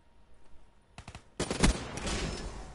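Razorback submachine gun in Black Ops 3 fires a rapid burst, then a longer loud sustained stream of automatic shots, close and dominant after a quiet start.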